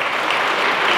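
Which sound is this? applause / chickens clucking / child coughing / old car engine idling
applause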